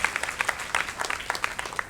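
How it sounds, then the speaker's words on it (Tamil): A church congregation claps in a brief burst of scattered, overlapping hand claps, fairly close and lively, lasting under two seconds. "அதனால தான் அந்த கைத்தட்டு ரொம்ப அவசியம்"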